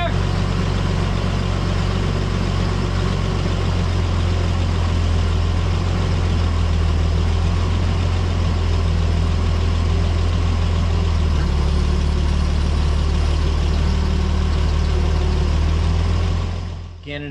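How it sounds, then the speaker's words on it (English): An 1800s thicknesser planer runs steadily after being belted up, giving a loud, continuous low mechanical drone and hum that holds for the whole stretch and then cuts off abruptly at the end. "we got everything in the planer up and spinning and running"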